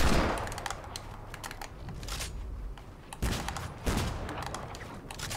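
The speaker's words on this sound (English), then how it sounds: "You gotta love the hand cannon" A hand cannon fires in Fortnite, with loud, sharp shots in quick irregular bursts and a heavier double blast near the end over a busy game soundscape, with no talk.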